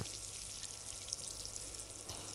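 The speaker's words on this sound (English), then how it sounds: "Let's water them up." Watering freshly planted tulip, rose and daisy seeds in the Daniel Tiger app game gives a soft, continuous hissing pour of water, faint and steady for a couple of seconds.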